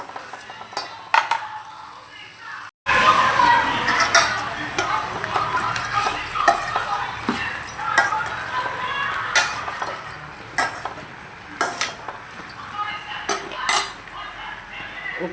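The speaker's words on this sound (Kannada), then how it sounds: "ಪೂರ ಫ್ರೈ ಮಾಡ್ತೀನಿ ಮಸಾಲೆ" Chicken sukka masala fries in a pan with a steady close sizzle, while a metal utensil clinks and scrapes against the pan from time to time.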